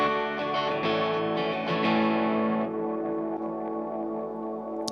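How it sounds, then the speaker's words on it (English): An electric guitar runs through a Strymon Flint reverb pedal with a low-mix analog delay behind it, sustained chords blooming into a dense ambient wash that slowly thins and fades out, with no voices. "that would be an excellent setting if you're going for like a wash and you have a low mix analog delay going in the background as well"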